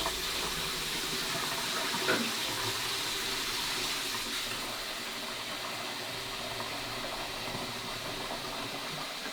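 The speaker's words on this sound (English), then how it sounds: "Just rinse it till the water runs clear." A kitchen tap pours steadily while rice is rinsed under it, a continuous close hiss of running water with faint splashing as the grains are stirred, and no one talks.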